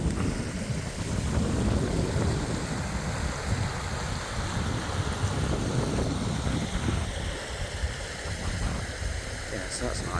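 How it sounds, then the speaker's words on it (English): Gale-force wind buffets a campsite in County Kerry, Ireland, a loud, continuous roar with gusty rumbling that batters the microphone throughout. "But it has been really, really windy."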